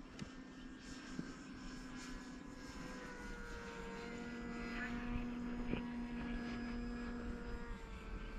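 An E-flite Timber RC plane fitted with snow floats makes a low pass, its propeller whine steady and rising a little as it comes nearer, heard at a distance over a faint background.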